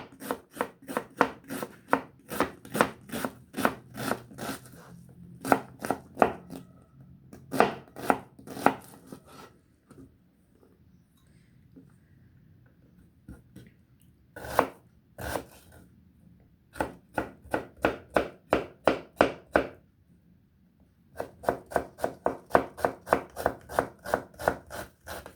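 A knife chopping onion on a board in quick, even bursts of sharp knocks, close and crisp, broken by short pauses and followed by a long rapid run of strokes at the end.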